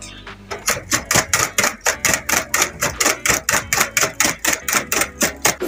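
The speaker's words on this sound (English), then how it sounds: "So our eggs are already whisked." Eggs are whisked by hand in a bowl for a plain cake batter, a fast, even run of sharp clicking strokes, close and steady with no voices.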